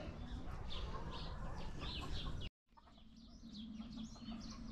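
Chickens cluck and chirp softly nearby, a few scattered calls over faint rustling, broken by a brief moment of silence midway.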